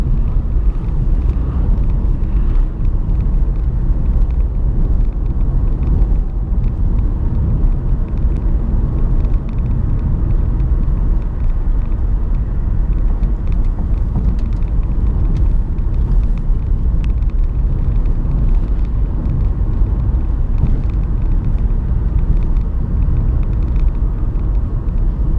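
Peugeot 3008 1.6 e-HDi FAP Active SUV driving over a bumpy road, heard as a steady low rumble of engine, tyres and road noise inside the cabin, continuous and fairly loud with small thumps from the rough surface.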